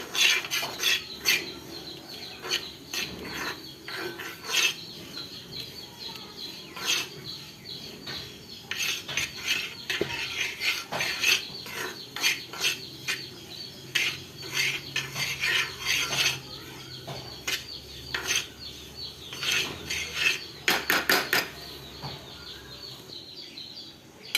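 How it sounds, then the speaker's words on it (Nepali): Small sesame seeds rattling and scraping in a dry pan as a utensil stirs them repeatedly while they roast, with busy clinking strokes and brief pauses. "रातो भइन्जेलसम्म तिललाई भुट्ने चलाउने"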